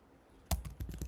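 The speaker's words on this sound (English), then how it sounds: "So I'll type" Computer keyboard keys clack in a quick irregular run of close, fairly loud taps as an email address is typed, after a brief near-silent lead-in.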